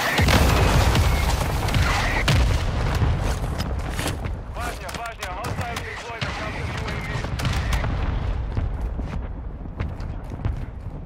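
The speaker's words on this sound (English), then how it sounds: "Requesting fire mission. Target. Copy that. Mortar strike inbound now." Video game mortar strike: heavy, booming explosions and rumbling blasts over a dense battlefield din of gunfire, with voices speaking throughout.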